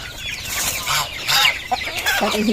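Broiler chickens on a farm, where the feed is mixed with rice bran, cluck in a busy, overlapping chorus. The short bursts sound fairly close, with one louder squawk near the end and no talk.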